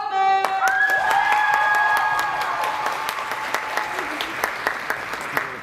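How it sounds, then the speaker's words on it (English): Audience applause at a high school multicultural fashion show, a steady wash of clapping that holds throughout under a sustained musical tone, with a scattering of sharp individual claps standing out. "Let's give a round of applause for Hebo Osman!"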